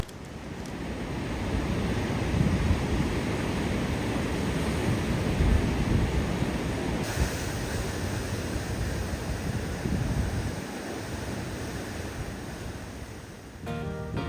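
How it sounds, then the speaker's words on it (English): Big ocean waves roll onto a jungle island coast in a heavy, continuous roar of surf, loud and close with gusting wind noise rushing over the microphone. "after lunch, very big waves arose"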